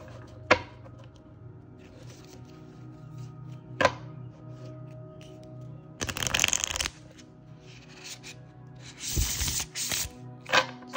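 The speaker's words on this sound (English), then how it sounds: "I generally like to shuffle my cards this way." Tarot cards being shuffled by hand in bursts, close and crisp riffling rushes, with quieter taps and handling sounds between them.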